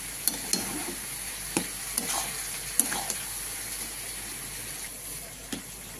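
Taro leaves cooking down in a pan, a soft continuous sizzle broken by several sharp spatula taps and scrapes at irregular intervals, close but fairly quiet.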